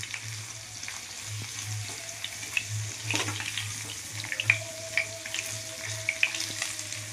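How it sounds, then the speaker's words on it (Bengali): Paneer pieces frying in hot oil, a steady crackling sizzle with occasional pops and light clatter over a low humming background; no speech. "পনিরটা ভাজা হয়ে গেছে, এবার তুলে নেব পনিরগুলো।"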